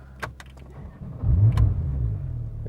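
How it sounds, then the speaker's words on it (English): A Rolls-Royce Dawn engine starts with a brief clatter, then settles into a deep, steady idle rumble close by, with a few faint clicks before. "Let's hear how this engine sounds."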